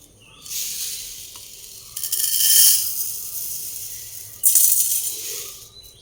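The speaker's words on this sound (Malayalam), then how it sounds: "ഇതിലേക്ക് നമുക്ക് ആദ്യം ഇഡ്ഡലി റൈസ് ചേർത്ത് കൊടുക്കാം" Dry idli rice pours into a 250 ml measuring cup in a home kitchen, giving a few loud, close, grainy rushing hisses, each lasting about a second, with brief pauses between them.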